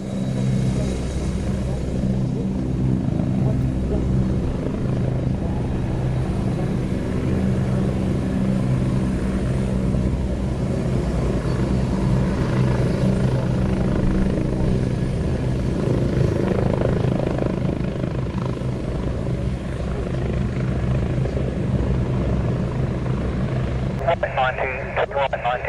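Helicopters fly nearby, a loud, continuous rotor and engine roar that fills the whole stretch, with faint voices beneath it.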